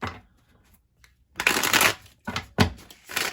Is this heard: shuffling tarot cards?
yes